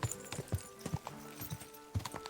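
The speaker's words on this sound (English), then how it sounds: "Just tap it to spur the horse and speed up." Horse hooves clip-clop at a steady trot in the medieval video game Kingdom Come: Deliverance II, with about five or six muffled, close thuds over a soft game backdrop.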